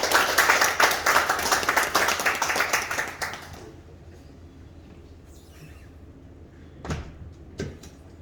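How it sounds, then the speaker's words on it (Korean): Loud audience applause at a church Christmas service welcomes a visiting missionary pastor to the pulpit. Dense clapping fills the first three seconds, then stops abruptly, leaving a quiet hall with a couple of faint knocks. "박수로 환영합니다."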